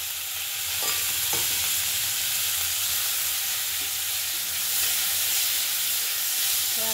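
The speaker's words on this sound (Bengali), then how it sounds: "কালো জিরে ফোড়ন।" Black cumin seeds tempering in hot oil left over from frying fish, a loud continuous sizzling hiss with a few crisp pops, holding steady throughout.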